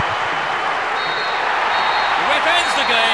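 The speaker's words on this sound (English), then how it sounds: "The ref ends the game and a huge roar from the crowd." A huge stadium crowd roars steadily as the final whistle ends a match in Pro Evolution Soccer 6, a dense, sustained wash of cheering with faint whistles rising near the end.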